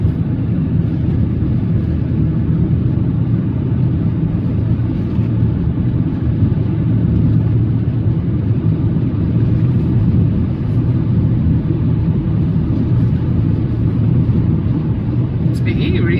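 A car climbs a mountain road up into low clouds, its steady engine and road rumble droning on without a break, close and loud throughout.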